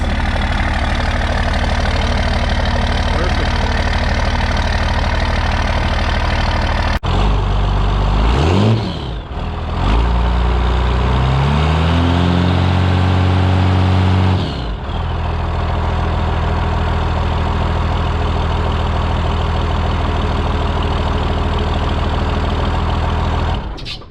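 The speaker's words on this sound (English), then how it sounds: "Idling right around 800 or so," A 1992 Dodge W350 first-generation work truck idles steadily at a low, even rumble, loud and close, with a brief shift in tone partway through and no speech.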